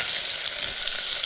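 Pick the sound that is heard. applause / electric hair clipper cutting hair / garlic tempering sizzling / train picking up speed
garlic tempering sizzling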